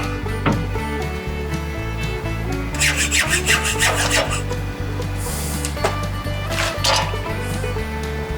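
A metal trailer hitch is being cut down, with rhythmic back-and-forth rasping strokes and occasional metallic clinks, loud and close.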